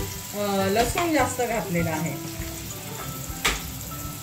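Mustard seeds, cumin, asafoetida and crushed garlic chili paste sizzling in generous hot oil for a Marathi chickpea-leaf dry bhaji, a lively crackling fry near the mic with someone talking over it.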